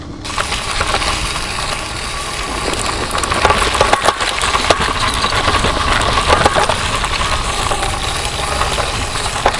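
EcoReco S5 lightweight electric kick scooter crossing a rough off-road section, a steady loud broadband rumble and rattle from the small tires and frame with scattered sharp knocks and clicks throughout.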